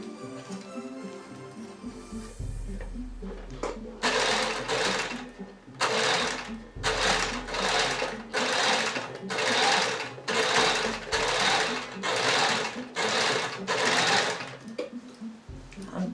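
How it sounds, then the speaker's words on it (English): Sewing machine stitching a box pleat skirt, running in repeated bursts of rapid needle chatter separated by short pauses, close and steady throughout. "I'm gathering this up now because this machine doesn't seem to be doing the biggest stitch."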